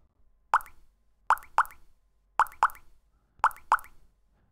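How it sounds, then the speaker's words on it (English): Short synthesized notes from a step sequencer in a programming demo, sharp plucky blips heard as pairs of close-spaced hits in a repeating pattern over near silence. "So you can hear now that there's 2 consecutive notes"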